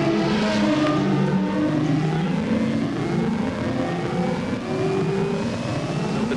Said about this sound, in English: So we might follow this just to have a look at the familiarisation lap for David Hobbs